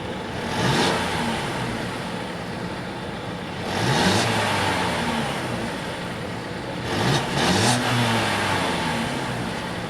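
A 2017 Mercedes-Benz GLC300 with all-wheel drive revs its engine in three separate bursts, each climbing and then settling back to a steady idle, heard close and on its own.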